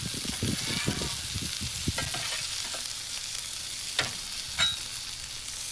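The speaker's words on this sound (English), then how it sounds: "Stop scraping that damn spatula." A metal spatula scrapes across a griddle in a cluster of quick, harsh scrapes, then a few sporadic ones, all over a steady background sizzle.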